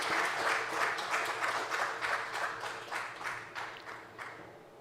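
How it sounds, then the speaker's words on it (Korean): A church congregation at a Korean Christian vision proclamation service applauds warmly, a steady wash of clapping with rhythmic swells that tapers off gradually. "박수로 영광 돌리겠습니다."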